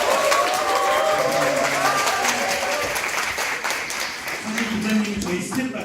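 An audience at a public testimony event breaks into loud, sustained applause, with a voice carrying over the clapping near the start and again toward the end as the noise gradually eases.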